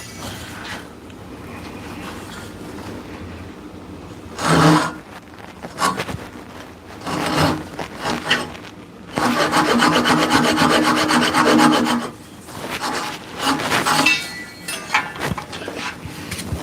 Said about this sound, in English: Now let's just saw it off.